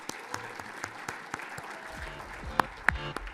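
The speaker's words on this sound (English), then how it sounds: "A big round of applause, ladies and gentlemen." An audience at a digital engineering awards ceremony applauds as a winner walks to the stage, a sustained patter of many hands with a few louder close claps cutting through, continuing for several seconds.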